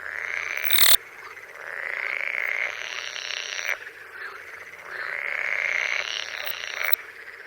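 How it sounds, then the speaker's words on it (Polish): Frogs croak in long, rasping bursts that swell and fade twice, with a sharp knock near the start, fairly close and with no talking. "Żaby wydają z siebie dźwięki"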